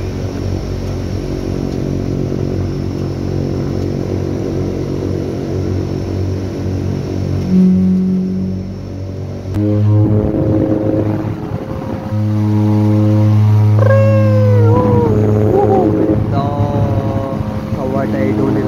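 A passenger airliner on the Dehradun to Pithoragarh route throttles up for takeoff, its engines roaring loud and steady from inside the cabin, swelling and rising in pitch as it speeds up, while voices talk over the noise.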